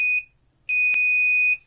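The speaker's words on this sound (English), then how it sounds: "The plan today is to make this little buzzer gizmo here." A homemade transistor buzzer circuit worked by a push button gives a loud, piercing electronic tone in two bursts, a short one, a brief gap, then a longer sustained one, with no talk.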